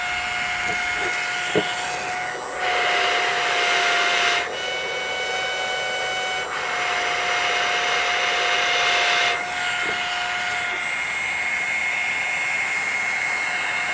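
A homemade mini siren motor is supercharged, holding a high, steady whine while airy rushing bursts swell and drop away twice, loud and close.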